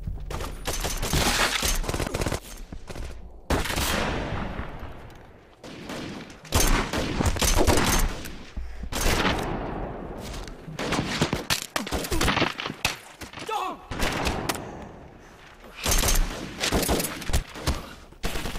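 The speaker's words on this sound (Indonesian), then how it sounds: "baku tembak yang baru saja terjadi" A film shootout with rifles rattles through repeated loud volleys of gunfire, dense bursts broken by brief pauses and echoing decays, with no talk over it.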